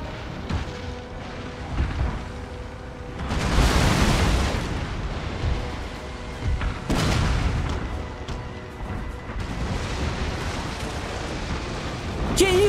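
Explosions in the video game Napoleon: Total War, several heavy booming blasts rising and fading in waves over a battle din, with a few sharper cracks between them.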